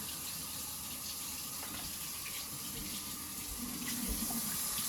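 Water from a kitchen tap runs steadily into a sink while food is rinsed for Cantonese cooking, a constant close splashing gush that grows slightly louder toward the end.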